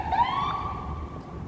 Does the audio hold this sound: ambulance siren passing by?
yes